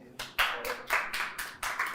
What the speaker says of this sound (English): One more time, round of applause.